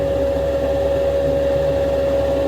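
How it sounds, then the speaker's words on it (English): Ventilation running inside a boat-building spray booth, a loud, steady broadband roar with a constant hum and no change in level, heard alone throughout. "I'm sorry for the noise, but you guys are right here in my spray booth."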